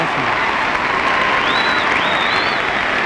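Steady, loud applause and some cheering from the Willowbrook cheering section in a gymnasium at the 1965 Illinois high school boys gymnastics state finals, with a dense crowd clapping continuously right after a horizontal bar routine.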